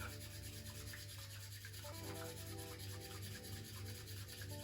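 A bamboo whisk whisks matcha tea in a bowl, giving a steady, continuous brushing rub close by as it moves back and forth without pause.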